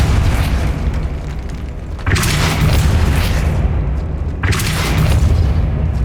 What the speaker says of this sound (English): Repulsor!